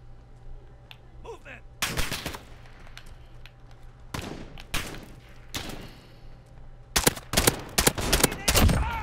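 Gunfire bursts in the Modern Warfare video game ring out in three clusters of rapid shots, loud and sharp, with brief quieter gaps between them.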